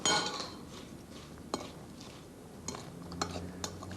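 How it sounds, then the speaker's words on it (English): Sultanas, almonds and cinnamon stirred in a bowl, with soft scraping and a few light clinks of a utensil against the dish, quiet and close. "and stir up well."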